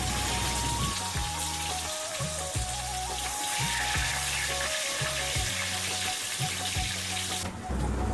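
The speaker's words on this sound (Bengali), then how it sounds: "মাছ ভাজা তেলের মধ্যে ডুমো ডুমো করে আলু কেটে রেখেছিলাম, সেটা দিয়ে দিচ্ছি।" Diced potatoes frying in oil previously used to fry fish, while making a fish head curry, give a steady, close sizzle that runs throughout with no talking.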